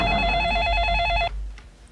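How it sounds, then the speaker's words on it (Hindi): A telephone rings loudly and close with a bright electronic trill, then cuts off abruptly partway through, leaving a quiet room. "हाँ, 1 मिनट लालू, तुम्हारे प्रिंसिपल का फोन है।"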